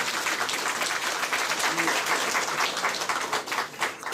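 An audience at a press conference on subsidised tertiary education applauds in a steady, moderately distant round of clapping that runs for several seconds, with voices murmuring underneath.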